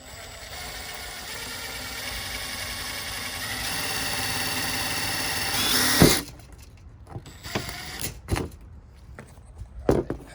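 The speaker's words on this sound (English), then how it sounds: "we're going to drill out a fine hole for the hardware" A power drill boring a fine hole for sign hardware gives a steady, loud whine for about six seconds, then cuts off, followed by a few scattered clicks and knocks.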